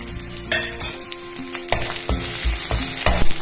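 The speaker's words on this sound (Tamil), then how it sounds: "அதையும் இப்போ எண்ணெயில் சேர்த்து வறுத்துக்கலாம்." Crushed garlic frying in hot oil for a curry leaf powder, giving a loud, close, crackling sizzle with scattered pops and stirring scrapes throughout, no voices.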